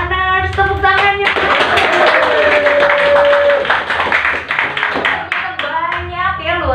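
A studio audience claps to welcome members of a guest community at a talk show, a dense burst of hand claps that swells and tapers over several seconds while a host's voice carries on over it.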